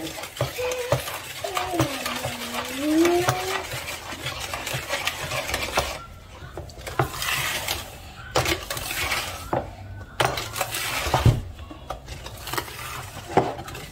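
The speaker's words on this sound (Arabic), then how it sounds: "غنخلط الخليط ديالو مزيان" A spoon stirs chocolate cake batter mixed with chocolate sprinkles, making continuous scraping and swishing strokes against the bowl. The stirring is close and steady, with short pauses and a few clinks, and no talking.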